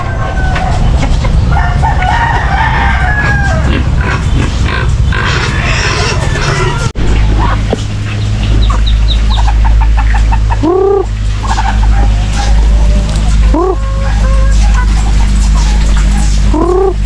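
Chickens and roosters in a backyard flock, with repeated loud crowing from several birds plus clucking, close and continuous over outdoor background noise.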